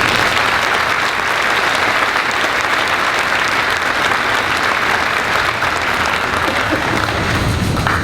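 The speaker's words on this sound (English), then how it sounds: "Please give all those on stage and our special guests a round of applause." A large commencement crowd at a 2013 graduation ceremony applauds in a loud, unbroken roar of clapping that holds steady throughout.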